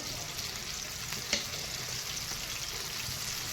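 Cumin and chilli fry in oil in a pan, giving a steady, soft sizzle heard close by, with a single brief clink partway through and no speech.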